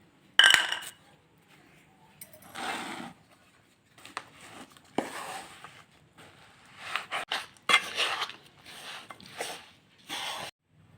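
Fried cashews being stirred into a ravva laddu mixture, with scattered clinks and scraping bursts of a spoon against a bowl in irregular clusters, fairly close and with no talking.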